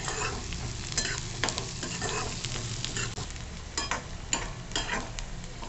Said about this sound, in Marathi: आता ही फोडणी छान खमंग करून घ्यायची